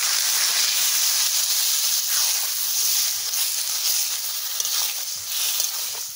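Water poured into a pan of jackfruit masala sets off a strong, steady hiss and sizzle that holds for several seconds, close and fairly loud.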